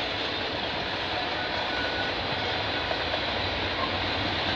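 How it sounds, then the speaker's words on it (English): A CN freight train passing on the tracks at Mile 32 of the Oakville Subdivision: a continuous, loud rumble of rolling cars and wheel noise, steady throughout with no talking. "I'm not sure what this train could be."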